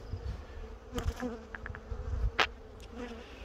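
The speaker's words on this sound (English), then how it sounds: "This colony here is the aggressive colony, and I was thinking to myself, they're pretty calm at the moment, but they're not because they're coming at me" An aggressive honey bee colony buzzing around the hive, a constant low hum with individual bees zipping close past now and then, no talking.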